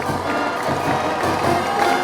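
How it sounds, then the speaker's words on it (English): Steady murmur of a large crowd in the stands at a high school football game between Johnson County and East Laurens, continuous and fairly loud with scattered shouts. "It's a good crowd tonight."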